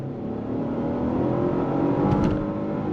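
A 2025 Genesis GV80 Prestige luxury SUV with an 8-speed automatic accelerating under throttle, heard from inside as a steady, close engine drone and whir that swells slightly, with no talking.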